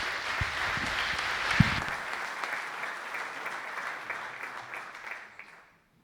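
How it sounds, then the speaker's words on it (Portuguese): Applause for the organizers of an international coaching clinic, sustained clapping from a seated crowd with a couple of sharp knocks early on, gradually thinning and fading out near the end. "Uma salva de palmas para a organização, porque merece sem dúvida"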